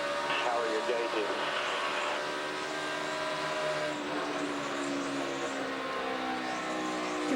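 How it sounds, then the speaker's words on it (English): NASCAR race car engine at Charlotte during the 2011 Coca-Cola 600, a steady loud drone with layered harmonic tones holding for several seconds, faint voices underneath. "The pitch of the engine has changed."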